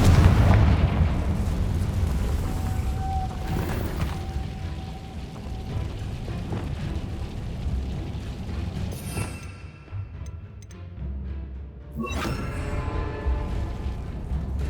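The Confringo explosive spell is cast in the video game Hogwarts Legacy, setting off a string of deep, rumbling booms and blasts that roll on almost continuously, loud and close, with sharper bursts near the end and no talking.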